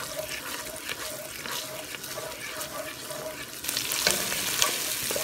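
Peas, rice and water being stirred gently in a cooking pot, a steady soft scraping and liquid swishing with light sizzle, growing louder and wetter toward the end as more is mixed in.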